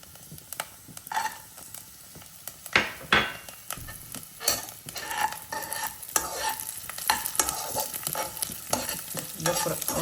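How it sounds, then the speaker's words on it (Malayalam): Almonds and raisins fry in a pan for sabudana carrot kheer, a soft sizzle under frequent scraping, clinking stirring strokes with a spoon that come in uneven bursts, close by and fairly quiet. "ഇതെല്ലാം വറുത്ത് കോരിയെടുത്തു"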